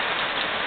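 Steady rain patters down in a dense, even hiss, loud and close, with no other sounds.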